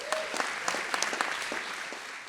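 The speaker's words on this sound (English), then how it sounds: "So give yourselves a round of applause." Audience at a community arts and culture keynote breaks into applause, a steady wash of many hands clapping with sharper individual claps standing out, sustained at moderate level throughout.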